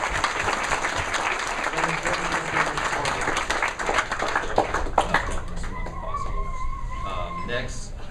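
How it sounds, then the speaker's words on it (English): A crowd at a wedding reception applauds warmly, sustained clapping filling the room for several seconds before tapering off, with some voices mixed in. "So round of applause for them, please."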